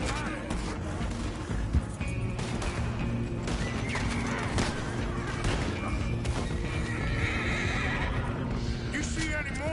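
Horses neigh and hooves clatter in Red Dead Redemption 2, mixed with dense game noise, gunfire-like bursts and voices talking throughout at a steady loud level.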